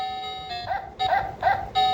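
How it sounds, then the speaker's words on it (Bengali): A baby piano play mat toy plays a recorded dog bark sound, a few short electronic yips repeated over a sustained tone, close and clear. "কুকুরের ডাক"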